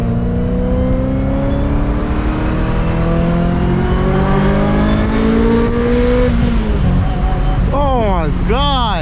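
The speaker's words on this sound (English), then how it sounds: "that high RPM tone is so, At 7, it almost wakes up." A 25-year-old Ferrari engine revs steadily to high RPM, its loud, rising harmonic wail held for several seconds before dropping off and then surging through two quick blips near the end.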